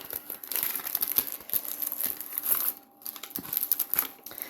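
Crinkly plastic packets of embossed scrapbooking stickers are handled close up, with dense crackling and crumpling bursts, one brief pause, and no voices.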